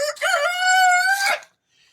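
Backyard chicken, a rooster giving one loud, close crow of over a second, followed by near silence and a faint cluck at the end.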